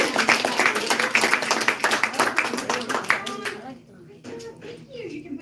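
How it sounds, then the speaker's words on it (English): Children and adults at a library science show clap for young volunteers, loud brisk clapping that tapers off after a few seconds, with voices talking underneath and afterward. "Give all my volunteers a big round of applause."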